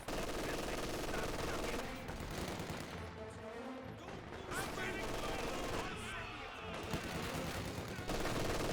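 Dense, continuous battle noise from the World War II strategy game Company of Heroes 2, with MG42 machine-gun fire and mortar blasts rattling steadily through the whole stretch, loud and layered without breaks.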